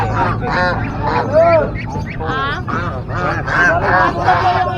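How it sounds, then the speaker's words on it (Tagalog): A goose at a Saturday pet market in San Carlos City, Pangasinan, gives a run of loud, close, nasal honks in quick succession, with market chatter faintly underneath. "Ganso po ito, ganso."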